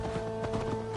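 Horse hooves clip-clopping in Assassin's Creed Valhalla, a quick run of rhythmic hoof beats over a steady tonal music or ambience bed, with no speech.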